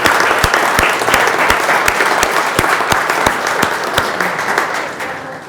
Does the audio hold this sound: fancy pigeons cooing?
no